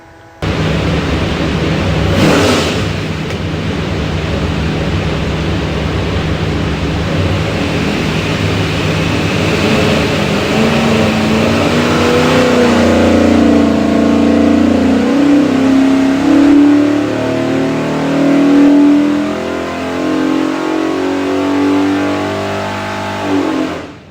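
A Shelby all-aluminum 482ci Ford FE engine with Moroso front sump and Holley MPEFI pulls hard on a dyno, a loud, sustained roar that climbs steadily in pitch through the run before easing off at the end.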